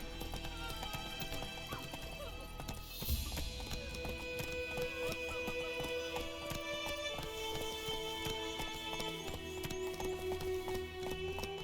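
Hooves gallop in a fast, steady clip-clop rhythm as a horse runs in The Witcher 3 video game, layered over an orchestral music score, with a short neigh and a faint voice.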